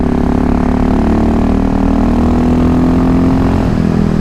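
A KTM 625 SMC single-cylinder supermoto motorcycle on the road, its engine droning loud and close with a steady throttle, holding an even pitch and then shifting slightly near the end, with no talk.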